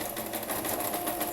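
Sewing machine stitching bias binding onto a fabric placemat, a steady, fast, continuous motor whir with rapid needle rhythm heard close and alone.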